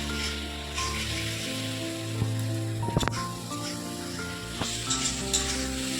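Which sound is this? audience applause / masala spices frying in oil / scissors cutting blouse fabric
masala spices frying in oil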